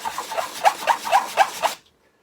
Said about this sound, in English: rough piece of sandpaper